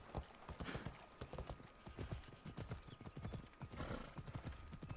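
Horse hooves clip-clop at a steady riding rhythm along a road in the video game Assassin's Creed Odyssey, loud and close, with a brief whinny mixed in and no talking.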